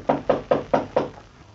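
Five evenly spaced knocks on a door, close and crisp, performed as a sound effect in a radio drama set at night, with nothing else heard.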